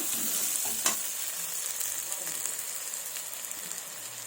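Fish with beans, potatoes and tomatoes fry in a wok with a loud, even sizzle and crackle throughout, one brief metallic clank near the start and faint stirring scrapes, close up.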